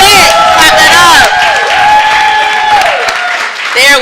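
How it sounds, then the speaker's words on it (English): An audience at an Essex County Commissioners special presentation in Newark, New Jersey, bursts into loud, sustained clapping and whooping cheers. Voices call out through the applause, which dips slightly midway before swelling again. "Clap it up"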